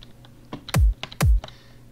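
Keys tapped on a computer keyboard during music production in FL Studio, with a few soft clicks in between two deep, booming electronic drum beats.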